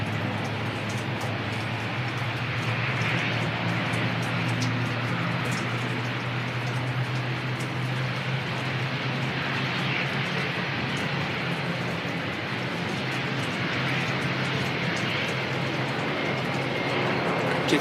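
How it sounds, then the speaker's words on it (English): An ATR turboprop airliner departs Christchurch Airport in wet, windy weather, a steady broad engine roar with a low drone holding evenly throughout, moderately loud and blended with rain and wind noise, no voices. "first ATR heading off to Rotorua"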